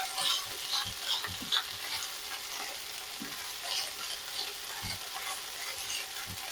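Pork browning in a pan, a soft continuous sizzle with scattered crackles and faint scraping knocks, fairly quiet and without talk.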